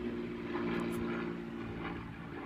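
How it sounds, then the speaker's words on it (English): An aeroplane flies overhead, its engine a steady, even drone that holds at moderate loudness through the short stretch, with no voices over it. "An aeroplane."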